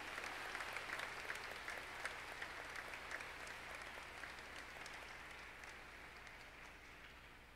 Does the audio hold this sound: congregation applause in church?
yes